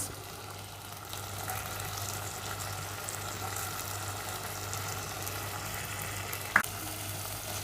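Masala gravy with yogurt and onion cooking in a pan for chicken tikka: a continuous, even sizzle and bubbling close up, with one brief sharp clink near the end and no voices.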